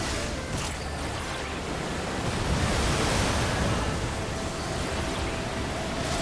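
A water dome spell in Final Fantasy XIV gives off a steady, full-bodied watery rush like surf or wind-driven spray, which swells slightly midway and holds without pause for several seconds.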